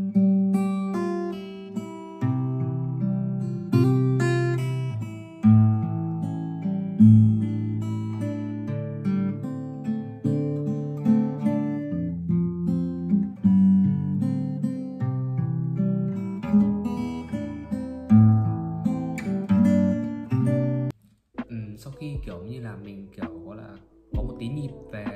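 Guitar played through a song freely without counting strums, a continuous run of picked notes and chords close up, followed near the end by a brief spoken voice.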